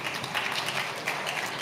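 Audience at a winter graduation ceremony clapping, a steady, dense wash of many hands throughout, moderately loud and even with no voices over it.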